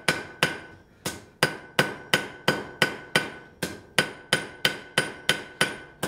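A blacksmith's hammer strikes steel on an anvil about thirteen times in a steady, even rhythm. Each blow is sharp and ringing, close and alone with no talk.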